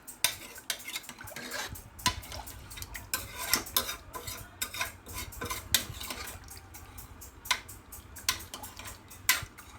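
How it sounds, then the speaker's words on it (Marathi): A spoon scrapes and clinks through chicken curry in a metal pot, giving repeated sharp ticks and stirring scrapes in an irregular rhythm, close and moderately loud, with no one talking. "आता हे चांगलं मिक्स करून घ्यायचं आहे परत।"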